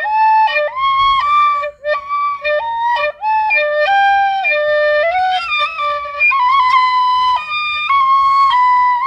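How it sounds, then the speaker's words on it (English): An Irish tin whistle plays a lively, bright melody of clear, pure notes, close and loud, with quick note changes and no talking. "It is a flute, but it's called an Irish whistle."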